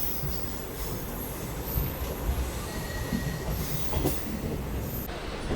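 Namo Green Rail hydrogen train pulling out of Sonipat junction, a steady broadband rumble of rolling stock with a faint thin wheel squeal and occasional clunks, heard continuously from close by with no talk.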